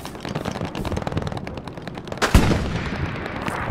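Gunfire rattles at a building in the WWII shooter Hell Let Loose, with dense machine-gun bursts and scattered shots, one heavy close blast in the middle, and continuous loud combat noise throughout.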